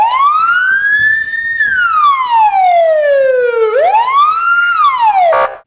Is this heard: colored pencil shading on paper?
no